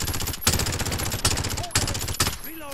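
Rapid SMG gunfire in Call of Duty Modern Warfare, loud sustained bursts of automatic shots separated by brief gaps, with in-game sound effects near the end.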